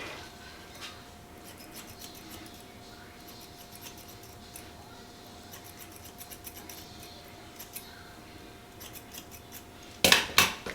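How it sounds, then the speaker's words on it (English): Crisp scissor snips, a few faint scattered cuts followed by a quick, louder cluster of close snipping at the very end. "we're gonna go in and cut with the regular scissors"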